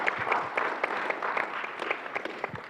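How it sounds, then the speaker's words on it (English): Faint, sparse applause from a small audience at an international symposium, scattered claps in a quiet room. "please give them the big applause"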